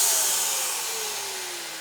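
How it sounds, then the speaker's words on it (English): A built-in vacuum in an R Pod 196 travel trailer by Forest River runs with a loud, steady airy whoosh that fades slightly as it sucks up dirt swept into it. "it sucks it all up into your vacuum. So once again, that was kind of noisy"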